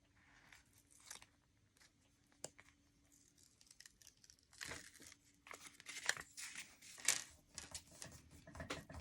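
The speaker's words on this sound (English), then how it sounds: "Okay, so now I'm going to peel this off." Adhesive backing being peeled off embossed vellum cardstock, a quiet close crinkling and tearing sound in uneven bursts, growing louder toward the end.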